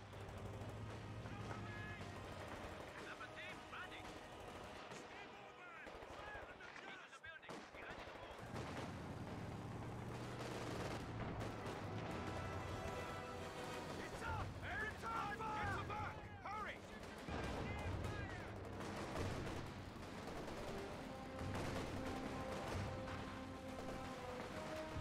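A machine gun team in the Company of Heroes 2 video game, sustained dense gunfire and battle noise rolling on without pause, mixed with shouting voices, distant blasts and game music.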